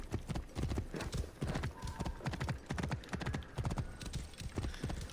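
A horse gallops hard in the video game Assassin's Creed Origins, loud rhythmic hoofbeats drumming in quick repeated bursts, close and prominent, with a brief whinny in the mix.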